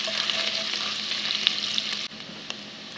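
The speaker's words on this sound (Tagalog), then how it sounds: "lagyan na natin yung ating bawang at suya. Gisa lang natin hanggang mag-brown" Garlic and ginger sautéing in a hot pan until browned, a loud, steady close sizzle with faint stirring scrapes and a brief drop in intensity partway through, with no talk.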